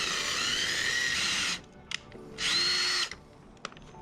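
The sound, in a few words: drilling 3/16 hole into Corvette bumper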